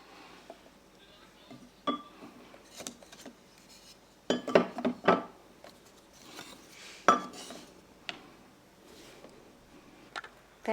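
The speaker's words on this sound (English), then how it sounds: "I just grab my wooden spoons and then I just pour them" Scattered woody clacks and clinks, close by, as several wooden spoons are dropped and rattle into a jar, with a busier cluster in the middle.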